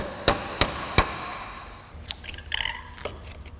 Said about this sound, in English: Sometimes you might need to get in there with a hammer and knock them around a little bit.